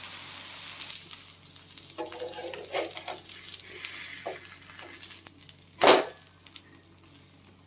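An uttapam fries in a pan at home, giving off a soft, steady sizzle with faint stirring and scraping, and a single sharp clank of a utensil near the end.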